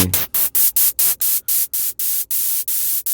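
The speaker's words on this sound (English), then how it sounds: "You can get noises of brown and pink quality." Synthesized brown and pink noise pulses in a steady rapid rhythm, about a dozen bursts of hiss separated by brief gaps, loud and close with no voices.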